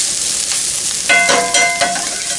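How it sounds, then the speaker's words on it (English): Red cabbage sautés in a pan, a steady bright sizzle close by, broken by a few brief stirring scrapes and clatters. "Now I'm going to add in my red cabbage, and we'll let that saute a little bit and soften up."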